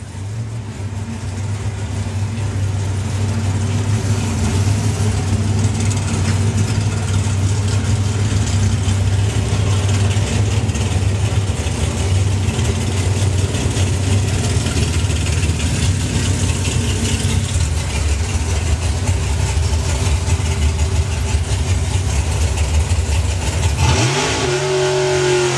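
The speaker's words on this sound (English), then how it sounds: "So it's going to be the Copo Camaro of Nick Williams, already confirmed as champion in Comp Eliminator this season, going alongside Jordan Payne." A COPO Camaro and another drag car idle heavily and rev at the start line during the final day of the STP National Finals 2021 drag racing, a loud continuous rumbling engine drone ending in a sharp rising rev near the close.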